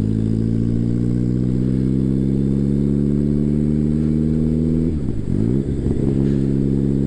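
A turbocharged Suzuki GSX-R Hayabusa motorcycle engine runs loud and close with a steady high idle, then revs sharply in a couple of quick blips near the end.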